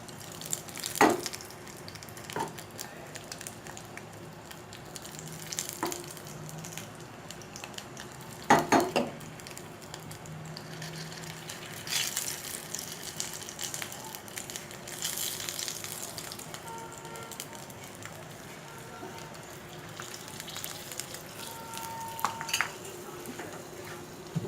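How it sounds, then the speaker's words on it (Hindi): Onion frying in a pan for a smoky green coriander chutney, a soft continuous sizzle under scattered metallic clinks and stirring scrapes from a utensil against the pan, fairly close. "ये देखिए मैंने इसको भी फ्राई कर लिया और अपनी ऑनियन को स्मोकी कर लिया।"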